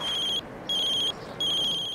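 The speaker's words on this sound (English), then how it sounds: "My phone's ringing." A phone ringtone in the City of Love video game: three bursts of bright, steady electronic trilling, each about half a second long and separated by short gaps, heard alone and up close with no talk.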